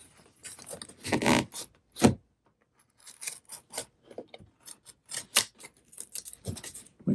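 A pocket knife slicing and scraping through foil tape around RV air-conditioning ductwork, heard as short irregular rasping cuts and crinkles, close by with brief pauses between strokes.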